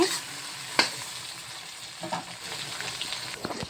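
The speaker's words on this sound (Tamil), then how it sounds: "இவங்க கூடயே போட்டு வெங்காயத்தையும் போட்டேங்க. வெங்காயமும் நல்லா பொரிஞ்சு வரட்டும்." Onions fried in a pan along with tempering spices for mint rice, giving a steady close sizzle with a sharp clink early on and a few stirring scrapes toward the end.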